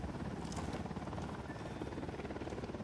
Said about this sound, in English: That's a helicopter circulating.